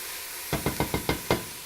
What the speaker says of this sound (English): I'll stir that all up.